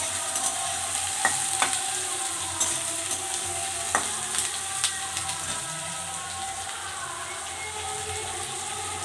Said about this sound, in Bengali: পেঁয়াজগুলো ভালোভাবে লাল করে ভেজে নিব।